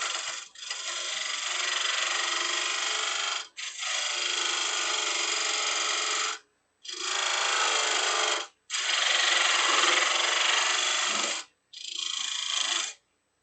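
A wood lathe turning a box blank as a carbide tool makes a straight parallel cut to form a shelf, heard as loud, continuous cutting bursts of a few seconds each, separated by brief pauses.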